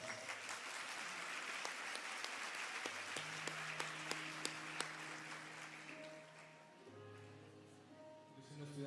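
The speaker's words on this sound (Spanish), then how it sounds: "un fuerte aplauso a todas las mamás" Audience applause for the mothers at a family and gender congress, moderate and sustained, gradually thinning toward the end, with a voice and some tones faintly underneath.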